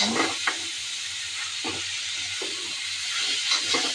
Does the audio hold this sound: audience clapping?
no